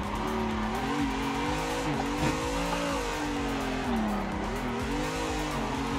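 Car drifting through long slides in a racing simulator game, engine note rising and falling steadily while tires squeal continuously, loud and close with no talk.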